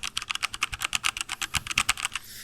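Fast, even typing on a mechanical keyboard with brown switches, the key presses sounding as crisp, close clacks in a dense rhythm with no voices.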